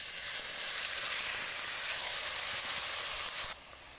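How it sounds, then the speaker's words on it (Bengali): Onion, tomato and chili paste sizzling in hot oil, a steady bright hiss close by that drops off sharply near the end, with no voices. "ওই তেলের মধ্যে পেঁয়াজ টমেটো আর লঙ্কা বাটাটা আমি দিয়ে দিচ্ছি।"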